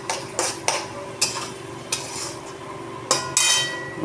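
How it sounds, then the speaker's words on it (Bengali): Five eggs frying over high gas with onions in a pan, stirred and scraped with a utensil; a steady sizzle runs throughout under repeated sharp clinks and scrapes of metal against the pan, close and fairly loud, with no talking. "ডিমটা পুরো ঝুড়ো ঝুড়ো হয়ে ভাজা হয়ে গেছে"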